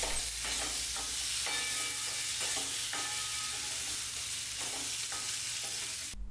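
A spoon stirs spiced masala aloo (potatoes) in a hot pan, with a constant soft sizzle under repeated scraping strokes, close and steady, without any speech.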